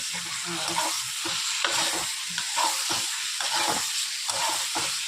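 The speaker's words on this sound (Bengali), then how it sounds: "মশলাটা আলুটা দিয়ে দিয়েছি, একটু সময় কষিয়ে তারপরে আদা রসুন" Potatoes and spices sizzle and fry in a pan for egg curry, with steady hissing broken by repeated stirring scrapes in an uneven rhythm, close and fairly loud with no talk.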